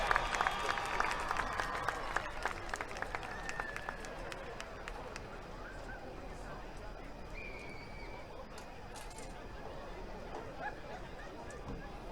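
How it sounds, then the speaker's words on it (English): Crowd applause at an outdoor high school football homecoming ceremony, a steady wash of distant clapping and cheering that stays fairly even over the stretch, with faint crowd babble underneath. "One more round of applause for 2020 Homecoming Green, Miss Shania Mathi"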